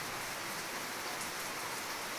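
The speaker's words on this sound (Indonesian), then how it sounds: "hari ini hujan" Steady rainfall, an even, continuous hiss of drops striking surfaces nearby, with no talking.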